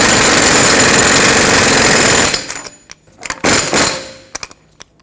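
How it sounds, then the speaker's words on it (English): An air impact wrench tightens the axle nut on a 2003-2012 Chevrolet Colorado, a loud, close, rapid hammering rattle for about two seconds, then several shorter stuttering bursts with brief gaps between them. "I'm using an air impact"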